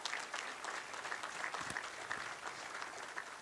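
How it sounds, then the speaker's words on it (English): A banquet crowd at a Hall of Fame induction claps in a steady round of applause, a dense patter of many hands heard from a distance. "So let's give all the Hall of Famers a quick round of applause."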